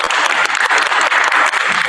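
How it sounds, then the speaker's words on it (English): An audience at a genocide awareness day panel discussion applauds the panelists, dense continuous clapping filling the space without pause from start to finish. "Would you all give me a big applause to our panelists?"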